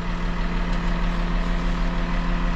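A farm tractor idles steadily in the open, its low engine hum unbroken and close throughout with no voices.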